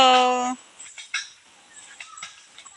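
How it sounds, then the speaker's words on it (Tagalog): A single loud, nasal duck call opens, then gives way to faint rustling and soft, distant voices. "Ito may pato."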